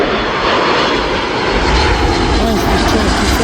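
An airliner landing at Birmingham Airport gives a loud, continuous engine roar that fills the whole stretch at close range.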